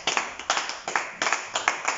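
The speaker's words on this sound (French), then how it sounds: "Est-ce que je peux demander à l'audience d'applaudir à mon co-directeur?" A small conference audience claps in a sparse, uneven rhythm, a handful of distinct hand claps close by with no voices.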